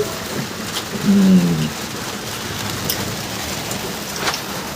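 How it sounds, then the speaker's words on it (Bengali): Rain falls steadily outside on an evening, a soft, even hiss of drops with a brief low hum partway through and no talking. "বাইরে বৃষ্টি হচ্ছে"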